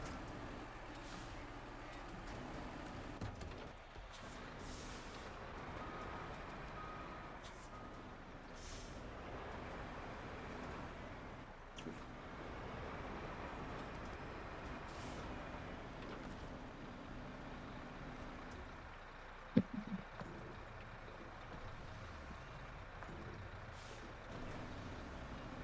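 Fuel truck in the off-road driving game SnowRunner, its engine droning steadily throughout with a few sharp air-brake hisses and releases, one loud burst standing out near the end, and no talking.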